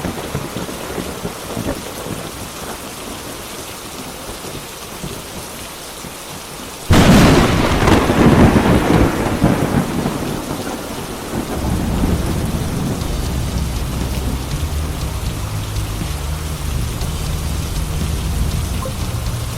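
Rain pours in the video game Murder Diaries as a sudden loud thunder crack breaks in, then fades into a dense, steady downpour with low rumbling that continues to the end.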